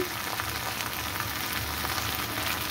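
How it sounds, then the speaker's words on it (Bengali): Okra fries in a pan, a soft continuous sizzle and crackle at moderate level with faint bubbling, heard alone without any voices. "আমার ঢ্যাঁড়সও ভাজা ভাজা হয়ে এসছে"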